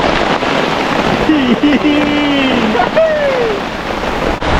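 A sudden rain falls at a campsite as a steady, loud hiss of drops that fills the whole stretch. A faint whistling tone drifts over it partway through.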